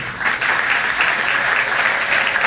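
Crowd applause at a graduation ceremony for a professional training centre's class, loud, thick and continuous clapping throughout, with no break.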